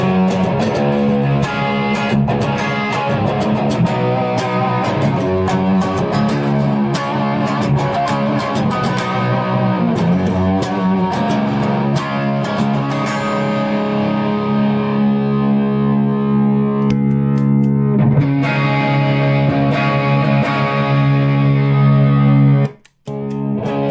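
A distorted electric guitar plays through an amp at low volume, a continuous stretch of chords and riffs with effects-laden, saturated tone, steady and close, ending abruptly in a brief silence before the last notes.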